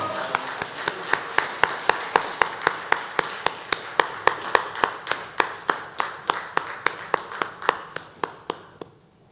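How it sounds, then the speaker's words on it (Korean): A church congregation at a Sunday service claps together in a slow, steady beat, with sharp, evenly spaced claps that keep time for several seconds and then stop. "주님께 영광의 박수 올려드립니다."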